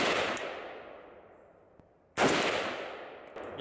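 A Zastava ZPAP M70 AK rifle with its standard muzzle device fires two loud, sharp shots about two seconds apart. Each crack rings out and fades slowly outdoors, with a faint click between the shots.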